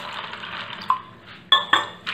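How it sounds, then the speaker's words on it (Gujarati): Water is poured into a steel vessel of raw home-grown peanuts for salted peanuts. A steady liquid rush comes with a few sharp metallic clinks near the end, close and clear, with no speech. "હવે આપણે તેની અંદર પાણી ઉમેરીશું"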